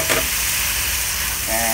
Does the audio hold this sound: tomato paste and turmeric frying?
yes